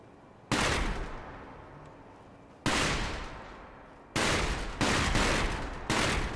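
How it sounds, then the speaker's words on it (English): Firecracker boxes in a video game go off in loud crackling bursts, four or five dense volleys each starting with a sharp attack and fading into sustained popping, with no voices. "Firecracker boxes."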